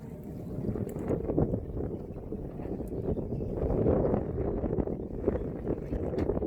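Sailboat moving under a fully unfurled genoa in light wind on a warm day, a steady low rush of water along the hull mixed with soft wind buffeting on the microphone.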